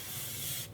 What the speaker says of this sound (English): Spray and Play, which is a light hairspray. It's a working hairspray